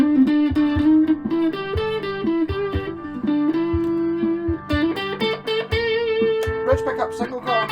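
An electric guitar plays a melodic line with distorted, gritty tone and sustained notes, close and clear, with no one speaking.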